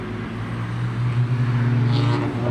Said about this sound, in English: That is somebody driving by.